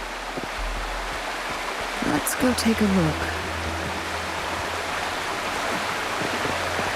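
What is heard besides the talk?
waterfall in the video game Wuthering Waves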